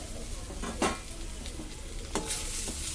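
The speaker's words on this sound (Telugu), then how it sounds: "ఇప్పుడు ఇందులో మనం ముందుగా ఫ్రై చేసుకున్న ఫిష్ పీసెస్ వేసుకుందాం" Fried fish pieces dropped into a simmering gravy in a pan: a dense, steady sizzle with a few sharp splash and scrape bursts as the pieces go in and get moved, close and loud, with no voices.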